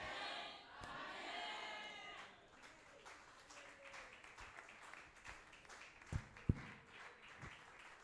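A church congregation at a fasting and prayer service gives faint, half-hearted applause: a soft patter of scattered claps with a few louder, isolated claps toward the end.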